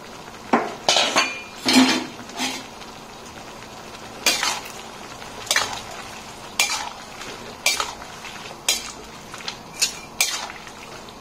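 A utensil stirs cabbage and celery in a cooking pan, making repeated scraping clinks against the metal over a soft sizzle, steady and close.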